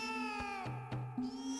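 A human voice mimics a cat's meow, producing a few drawn-out, wavering mewing tones in quick succession, close and fairly clear.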